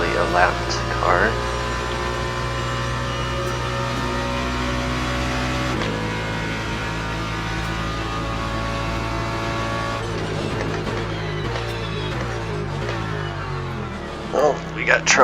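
Race car engines in the Le Mans Ultimate sim at Monza drone steadily with layered harmonic tones, shifting pitch as gears change and other cars pass, with someone talking throughout.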